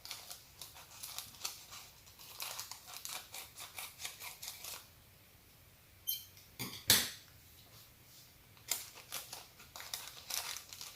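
Scissors snipping through double plastic packaging, a run of quick crisp cuts with crinkling wrap between them, a louder burst of snips midway, close and clear with no talking.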